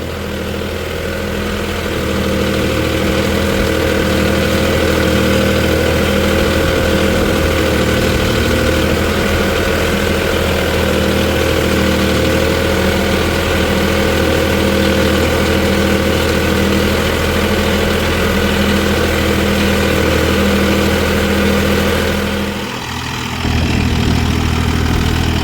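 Mahindra OJA 3140 40 HP 4WD tractor engine idles steadily up close, a loud, constant low drone with a faint rhythmic pulse, briefly dipping near the end before resuming.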